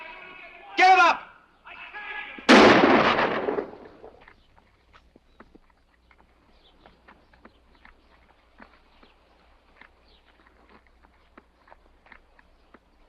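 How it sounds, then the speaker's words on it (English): A single loud gunshot in a 1950 western film sharply follows a shouted voice, then decays into quiet with scattered faint hoof-like clops and rustles. "Some posse man shooting a guy with his hands up"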